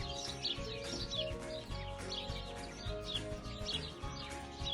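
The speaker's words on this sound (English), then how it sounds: "Lots of birds singing a song on a beautiful sunny day." Birdsong on a sunny day during a bike ride: bright chirps and twittering calls recur high above a steady musical bed, moderately loud and continuous.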